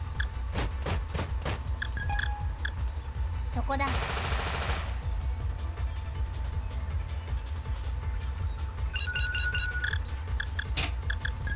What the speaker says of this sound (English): Time for some random shots since I can't see anything.